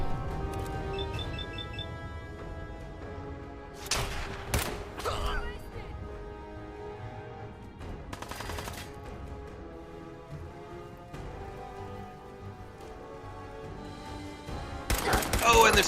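Automated turret machine gun fire in Fallout 4: several short, loud bursts of rapid gunfire separated by quieter stretches, with the heaviest burst at the very end, set against a low game soundtrack.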